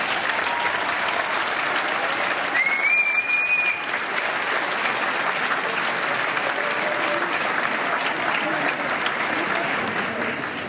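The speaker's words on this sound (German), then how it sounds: "Bitte einen riesen Applaus an euch selber." A crowd at a charity pole dance show night applauds loudly and continuously, a dense, steady wash of many hands clapping, with a brief whistle rising early on.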